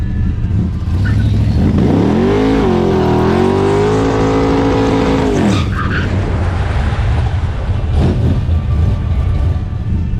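A Chevrolet Vega drag race car launches hard at a drag strip, its engine roaring loud and close and rising steadily in pitch for several seconds before cutting off, followed by lingering engine noise.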